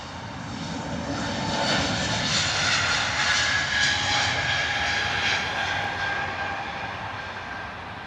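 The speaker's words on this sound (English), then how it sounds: "next departure, A320 Neo, British Airways, rolling off to Milan" A British Airways Airbus A320neo takes off for Milan with a steady engine roar and faint whining tones that build to a peak mid-run and then slowly recede; nobody speaks.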